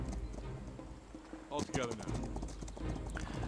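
Horses clip-clopping in the strategy video game Humankind, steady hoofbeats under game music and someone talking over the top.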